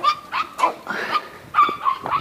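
German Shepherd puppies yip and bark in a string of short, high, near calls with whimpery tones, several overlapping bursts across a couple of seconds.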